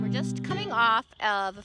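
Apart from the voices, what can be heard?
None of the usual background noises is heard.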